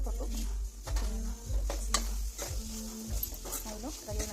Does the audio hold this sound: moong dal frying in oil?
yes